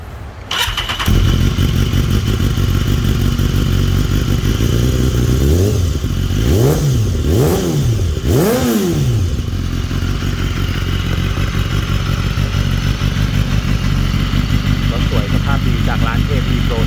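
A 2014 BMW HP4 Competition Carbon limited-edition motorcycle starts up and settles into a loud, close idle, then gets three sharp throttle blips that rise and fall before it returns to a steady idle.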